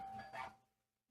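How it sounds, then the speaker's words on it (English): A short doorbell chime rings once with a bright tonal ding fading out within about a second, moderately faint and heard alone. "I thought that was my doorbell."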